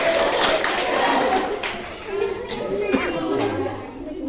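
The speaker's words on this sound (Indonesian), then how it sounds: "Tepuk tangan dong" Classroom applause at a vocational school, a lively burst of hand clapping from students mixed with children's chatter and voices throughout.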